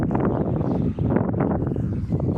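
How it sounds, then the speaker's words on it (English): Gusty wind buffets the microphone in a loud, continuous roar with rumbling low end, nearby and unbroken. "Pretty windy too, because we're on the beach"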